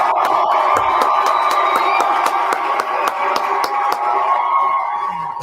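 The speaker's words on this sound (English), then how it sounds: "Can we get a round of applause for our good friend" A live talk-show audience claps and cheers for a guest, loud and sustained, with sharp individual claps, whoops and crowd shouting layered throughout.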